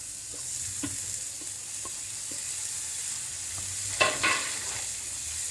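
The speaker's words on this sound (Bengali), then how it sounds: "এবার আস্তে আস্তে সিমগুলা দিয়ে দিব।" Green beans fry in oil spiced with chili and turmeric powder, giving a steady, moderate sizzle. Scattered taps of a stirring utensil sound against the pan, with a louder clatter near the end and no speech.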